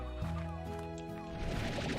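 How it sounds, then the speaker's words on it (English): Chickens cluck softly in the Slime Rancher video game, a few low fowl calls over a steady game music and ambient bed. "These chickens hiding over here."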